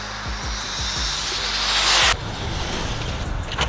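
Traxxas TRX6 6x6 RC truck on a 6S battery, its electric motor whining loudly at high speed and then cutting off abruptly, followed by rumbling wheel and ground noise.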